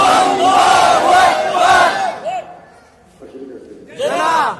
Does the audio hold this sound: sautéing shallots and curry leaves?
no